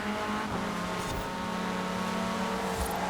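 An Alpine A110 engine in Forza Horizon 4 revs continuously and loudly with a steady buzzing drone, accompanied by brief tire squeal and racing car sounds throughout.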